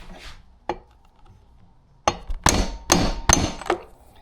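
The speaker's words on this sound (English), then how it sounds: "Just going to stick that in the hole. Give it a couple good taps." Hammer gives several sharp metallic taps to drive an insert into a stripped spark plug hole in an engine cylinder head, a quiet knock first, then a quick run of four or five close, loud strikes.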